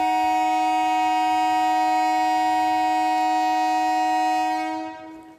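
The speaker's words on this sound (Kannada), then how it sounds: "Sorry for the sound of horn." A horn sounds outside in Japan, holding one long, loud, steady blast for several seconds before trailing off.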